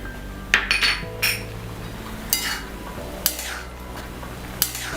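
Metal utensil clinking and scraping against a pan while stirring potatoes with turmeric, chili and coriander powder for aloo matar curry; several distinct sharp clinks spaced irregularly, fairly close, with a steady low hum beneath.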